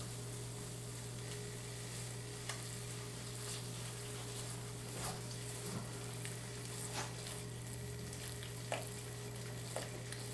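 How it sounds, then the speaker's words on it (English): A butter and flour roux stirred in a pan for cream of mushroom soup, a steady low sizzle with soft scraping strokes and faint clicks of the utensil against the pan, close and quiet, with no talking. "I want to mix it in well so we don't get"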